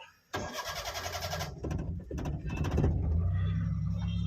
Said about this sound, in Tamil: வாங்க வண்டியை ஸ்டார்ட் பண்ணி காமிக்கிறேன்.